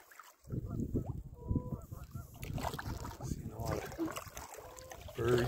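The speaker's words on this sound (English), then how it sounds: "Birds." Goose-like honking calls from birds on Sparks Lake, heard from a small boat out on open water, several close honks over a low rumble of handling and paddling noise.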